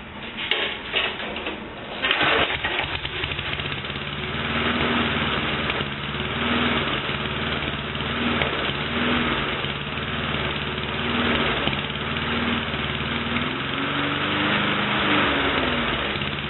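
A lawn mower engine under repair with an adjusted idle spring starts and settles into a steady close idle, its pitch wavering slightly as it runs on alone.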